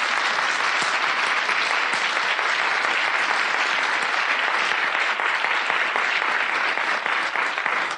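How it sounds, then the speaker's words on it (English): Audience at a research library association membership meeting giving a round of applause to thank sponsors, sustained dense clapping from many hands at a steady, moderately loud level with no talk. "So can we give a round of applause to thank those sponsors?"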